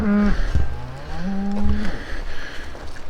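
Cattle in the Swiss mountains give two drawn-out, loud moos close by, the second longer and rising, with faint background noise and no talk.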